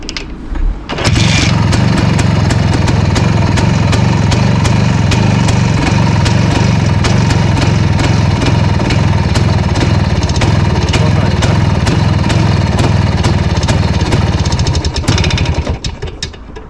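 A cold IZh Planeta 5 motorcycle engine idling close by, a loud, steady, rapid single-cylinder chugging that runs evenly before cutting off abruptly at the end.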